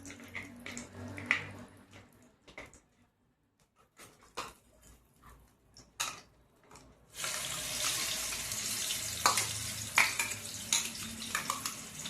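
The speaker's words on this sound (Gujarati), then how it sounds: "હવે આપણે આ જ તેલ છે એમાં ચટણી નાખી દઈશું" Blended chutney poured into hot oil, a few quiet clatters and stirs followed by a sudden loud, sustained sizzle that carries on steadily to the end.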